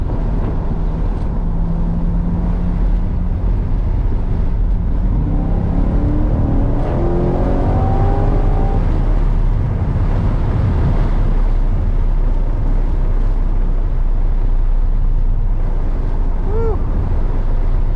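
A 2021 Chevrolet Corvette C8 drives with its roof panel off: a steady low engine drone mixes with heavy wind rush, and the engine note briefly rises midway as it accelerates.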